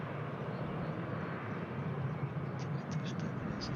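Airliner taxiing at Brussels Airport while turning left toward runway 25 right, a steady broadband engine rumble and whine that holds constant throughout, with faint higher tones near the end.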